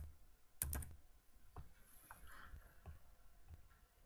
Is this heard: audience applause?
no